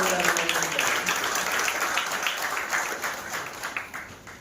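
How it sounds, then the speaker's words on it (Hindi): Audience applause welcoming guests at a political gathering at Atal Bhawan in Silvassa, a steady dense patter of clapping held for several seconds and thinning slightly toward the end. "जोरदार ताली बजाकर"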